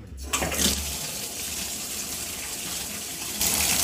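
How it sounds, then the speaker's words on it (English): Water from a running tap gushes steadily over an old Tiffany Studios lamp base being rinsed, a loud, continuous close splashing that swells again near the end, with no voices. "So let's go ahead and rinse this guy."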